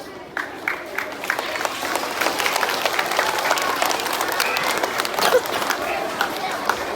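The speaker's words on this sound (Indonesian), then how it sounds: "Sekali lagi tepuk tangan." An audience at a school talk on natural disaster mitigation for earthquakes and tsunamis claps together, a brisk, sustained round of many hands with some crowd murmur mixed in.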